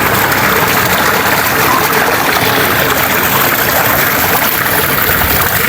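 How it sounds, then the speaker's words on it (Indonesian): Mountain water flows and trickles at a villa in Bali, a loud, steady, unbroken rushing wash close by with no talk over it. "suara gemericik air"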